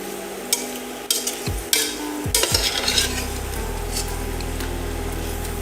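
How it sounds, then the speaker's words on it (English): A metal spatula scrapes browned fond from the bottom of a stainless steel pan in several short, sharp strokes, then settles into a steady low sizzle, heard up close. "You can gently scrape this away if you're using a stainless steel pan and something like a metal spatula that I'm using here too"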